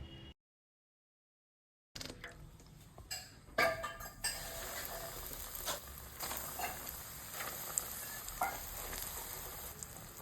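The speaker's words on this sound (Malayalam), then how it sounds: "ചട്ടി ചൂടായതിന് ശേഷം കുറച്ച് വെളിച്ചെണ്ണ ഒഴിച്ചു കൊടുക്കുക" Coconut oil sizzling and crackling in a hot pan, starting abruptly after a short silence and continuing as a steady close frying hiss with scattered pops and light clinks.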